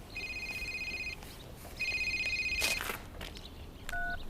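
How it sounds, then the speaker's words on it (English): A telephone rings in two long electronic trill bursts with a pause between, then a brief shorter tone, fairly quiet in an indoor scene from a soap drama. "You must start answering your phone, Eric."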